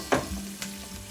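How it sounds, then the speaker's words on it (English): Garlic and onions frying in a pan, a steady close sizzle with a couple of brief scraping stir sounds over it. "Let the onions cook until it is translucent and also absorb the flavor of the garlic."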